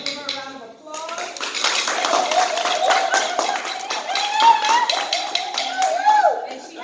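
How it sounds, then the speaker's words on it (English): Festival audience applauding a speaker, dense clapping that swells in at once and holds steady for several seconds, with voices and cheers mixed through the crowd. "Give her a round of applause."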